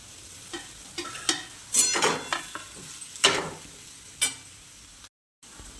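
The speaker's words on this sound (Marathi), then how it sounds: "आता हे परतल्याच्यानंतर आपण याच्यामध्ये बटाटे घालून घेऊया आता छान असं हे परतून घ्यायचं आपल्याला" Potatoes stir-fried with turmeric and salt in a pan, heard as a series of scraping stirs and soft sizzling bursts that come and go at close range, with no voices.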